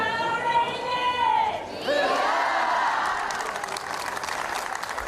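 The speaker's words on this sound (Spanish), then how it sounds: "Con muchos aplausos, con esos vítores" Crowd outside the monastery of San Martín de Castañeda in Sanabria welcomes visitors with applause and cheering. A raised voice rings out at first, then steady clapping and shouts carry on at moderate distance.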